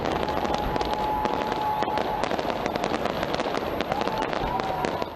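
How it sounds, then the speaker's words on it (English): Dense, continuous New Year's Eve fireworks over Auckland, with rapid overlapping bangs and crackles forming a loud, unbroken roar of explosions throughout. "The New Year Eve celebration started from New Zealand with iconic fireworks and laser light animations"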